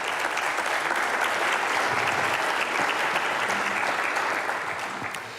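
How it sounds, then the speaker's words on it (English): A large audience gives a sustained round of applause, a thick, even wash of many hands clapping at once that stays loud throughout and eases slightly at the end. "So once again, nice round of applause."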